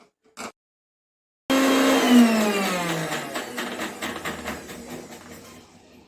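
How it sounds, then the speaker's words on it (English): A kitchen blender grinding appam batter mixture starts abruptly after a short click, roaring loud and close, its motor pitch dropping as it labours and then settling into a steady grind. "let me just grind this and then I'll show you the mixture altogether"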